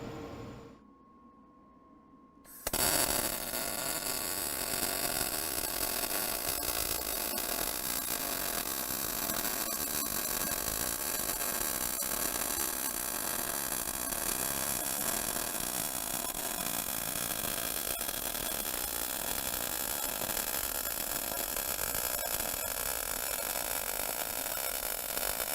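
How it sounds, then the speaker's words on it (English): A Power MIG 215 MPi MIG welder runs a continuous bead on 10 gauge steel, starting abruptly after a brief quiet moment and then sustaining a steady, close, crackling hiss. "So let me put on some PPE and we'll go and we'll make that weld."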